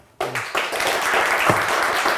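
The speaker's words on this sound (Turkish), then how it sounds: "Yine de alkışı duysun lütfen" Turkish studio audience on a word game show bursts into applause for a contestant, a sudden close wall of clapping that starts abruptly and holds steady.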